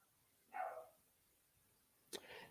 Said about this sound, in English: Yeah, that's just my dog downstairs barking.